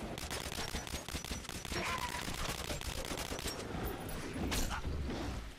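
Rapid, continuous gunfire in the video game Metro Last Light, a dense chatter of automatic shots with metallic mechanism clicks, steady and fairly faint throughout with no voices.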